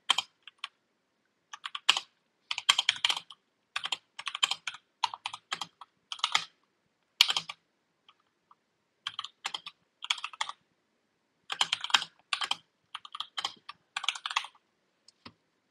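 Computer keyboard keys typed in bursts while writing code for a LeetCode problem, with irregular clusters of quick clicks separated by short pauses, close and clear without talk.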